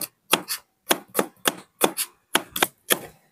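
A knife thinly slices garlic on a cutting board in the kitchen, giving crisp, close chopping taps in quick pairs and short bursts, about a dozen cuts separated by brief silences, with no talking.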